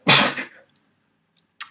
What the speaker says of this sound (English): I think I'm going to sneeze in a second